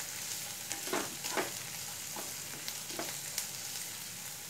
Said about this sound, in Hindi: मसालों को अच्छी तरह से फ्राई कर लिया।